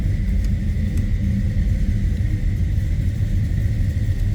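A 1971 Plymouth Scamp hardtop's engine idles steadily with a low, even rumble, close and continuous, with no voices over it.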